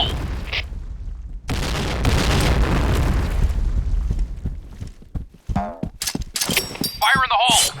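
In the video game Point Blank, a grenade goes off with a loud, heavy boom and a long rumbling tail, followed by sharp bursts and clipped game voice callouts near the end.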